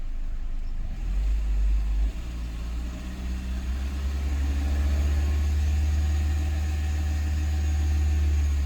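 A Peugeot 207cc car engine with an oil leak idling steadily up close, a low continuous rumble with a slight shift in tone partway through.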